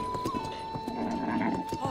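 Epona the horse in the video game Zelda: Breath of the Wild, with hoofbeats and a neighing whinny over a sustained tonal game background.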